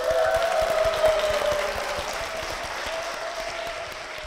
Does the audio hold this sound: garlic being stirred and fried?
no